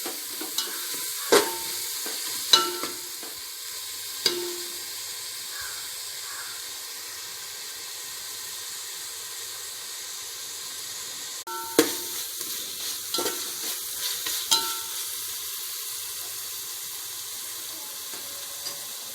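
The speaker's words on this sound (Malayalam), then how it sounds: "നല്ലതുപോലെ വശക്കി കൊടുക്കുക. ഇതിൻ്റെ പച്ച മണം മാറുന്നത് വരെയും" Masala for a Kerala-style Thalappakkatti chicken biryani sautés in a pan under a soft continuous sizzle, punctuated by scattered spatula taps and scrapes in two clusters, faint and close, with no speech.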